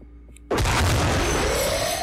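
An alien fires at a civilian in the Xenonauts strategy game: after a quiet half second, a sudden loud blast erupts and rolls into a long, harsh roaring decay.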